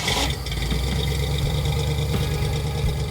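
A Ford Ranchero engine fired up and running steadily, a loud close idle with a low mechanical rumble and a faint ticking knock.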